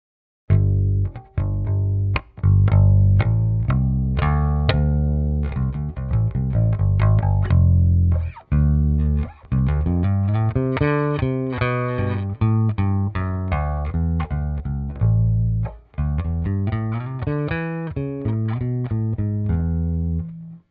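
Bass guitar played all over the neck while checking for wolf tones, a steady run of plucked notes with sustained low harmonics, loud and close, pausing briefly a few times with no talking.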